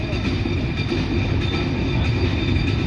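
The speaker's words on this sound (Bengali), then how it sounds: "বড়াল ব্রিজ অতিক্রম করছে এখন আমাদের ট্রেনটি" Chitra Express, running between Khulna and Dhaka, crossing the Baral Bridge, heard from on board as a steady, loud, unbroken rail rumble with a grinding wash of wheel noise and no talk.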